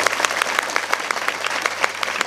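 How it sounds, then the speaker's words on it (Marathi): An audience claps together at a kirtan, the claps falling in an even, rhythmic beat, fairly loud and close, over a low steady hum. "तुमच्यासाठी मी टाळ्यांचा कडकडाट करायला लावतो."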